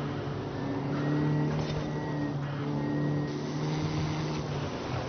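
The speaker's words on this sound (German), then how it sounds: "Und der Motor, Vierzylinder, Motorensound, den finde ich auch gut." A four-cylinder Ford Mustang Fox Body engine, turbocharged, drones steadily in a video game, a loud buzzy hum that swells briefly as the revs rise and fall.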